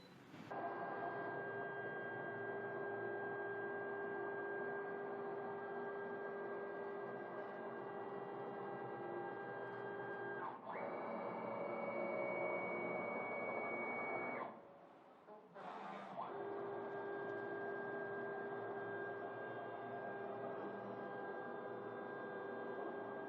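A Focus Athena Jet Plus DTG printer runs a nozzle check print with a quiet, steady whirring hum. The pitch shifts partway through, and the sound drops briefly before resuming.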